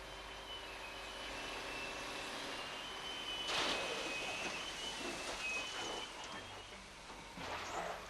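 A lorry pulls away from a Stichweh drag scraper gravel plant beside the stockpile: a steady, moderately distant engine rumble that swells partway through, with a thin intermittent beeping over it.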